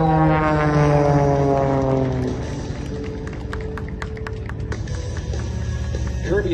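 An aerobatic airplane at an air show performs a high-speed snap roll, its engine drone sweeping down in pitch as it passes, then settling into a steady distant roar with crowd noise and an announcer speaking over it.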